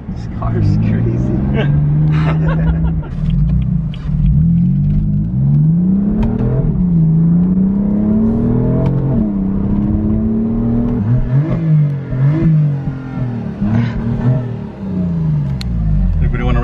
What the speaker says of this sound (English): we just took a test drive in the M4